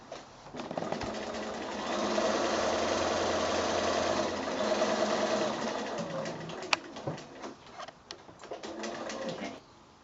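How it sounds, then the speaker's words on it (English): A sewing machine runs steadily, stitching rows along a fabric strip about one inch wide for a quilted project bag, its close mechanical whir holding for several seconds before stopping and giving way to small handling clicks. "So it's just a matter of sewing 3 rows of stitching."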